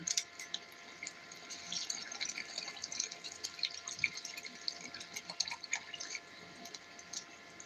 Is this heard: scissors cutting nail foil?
no